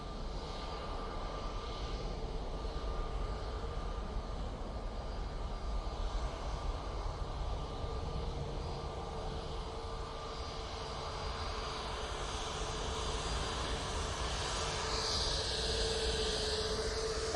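An Airbus A321neo jet at Manchester Airport, bound for Skiathos, hums with a steady, moderately distant engine drone and a faint whine, continuous and unbroken, with no voices.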